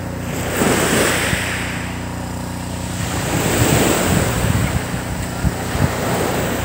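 Sea waves washing onto the white-sand beach at Laiya, Batangas, a steady roar of surf with gusts of wind buffeting the microphone, swelling and easing in broad surges, with no one speaking.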